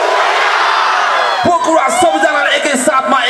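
Large live concert crowd in Pokhara roaring with sustained cheers and whoops, loud and dense, then breaking into scattered shouts as a voice speaks over the fading noise.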